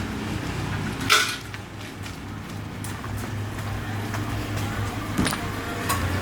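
A car drives out of a home garage, a low steady engine rumble close by with a few clunks and knocks over it, continuous and moderately loud with no talk.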